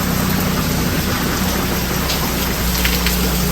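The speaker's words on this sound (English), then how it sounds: "You can't even keep up with the amount of rain that we've got in the past 20 minutes." Heavy rain pounding down during a storm, a dense, constant roar of water hitting the ground and surfaces close by, loud and unbroken, with no one talking.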